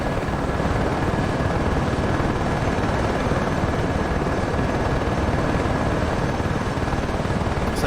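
AH-64 Apache helicopter rotors and engines in the DCS World flight simulator, Persian Gulf setting, a constant loud, fast thudding rotor beat over a thick turbine roar, steady and close throughout with no speech.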